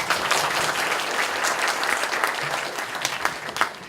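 Dense, steady applause from a student audience at a lecture hall talk by politician Ahn Cheol-soo at Kyungpook National University, filling the room evenly and easing off slightly at the end.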